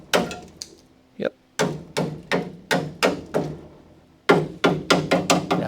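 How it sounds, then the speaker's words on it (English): Hammer and dolly striking car body sheet metal on a Crew Cab Charger under restoration, a run of sharp, ringing metallic blows, roughly a dozen, spaced steadily with a short pause before a quicker closing flurry. "All right, let me get my hammer out. Hold on. Let me get the dolly out."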